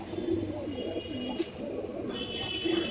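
A fulshira hen pigeon coos in a loft, giving a few low, wavering rolls close by, with a short pause between the phrases.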